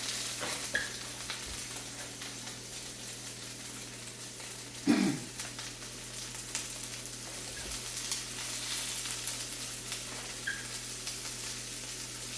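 Asparagus frying and sizzling in a pan as it finishes cooking, a steady crackle at close range with stirring, one brief clatter of utensil or pan near the middle and no voices.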